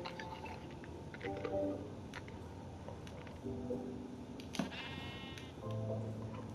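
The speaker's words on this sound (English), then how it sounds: "You see a fucking sheep?" Sheep in Minecraft bleat faintly several times over a steady background of game ambience and low rumble. The bleats come in short, wavering bursts spread through the clip.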